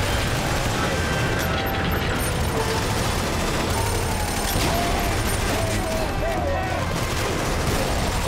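A shooter video game rattles with dense, continuous gunfire and mechanical clatter from start to finish, loud and unbroken across the clip.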